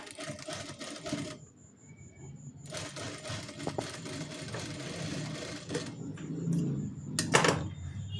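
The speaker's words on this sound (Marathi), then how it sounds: "तर आता आपण टीप मारून घेऊया तिकडून।" A sewing machine stitches a hook strip onto a blouse, running in bursts of fast, close mechanical chatter separated by short quiet pauses, with a few handling clicks between runs.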